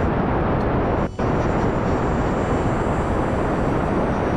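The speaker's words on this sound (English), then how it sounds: "these rockets are loud as hell" Rocket engines roaring in the video game Kerbal Space Program, a loud, constant broadband rumble that fills the whole clip with one brief dip, no speech.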